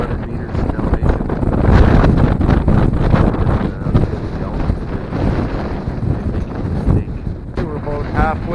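Strong wind roars and buffets the microphone on a high mountain trail at around 2,200 meters, with loud, continuous gusty rumble throughout and faint voices underneath.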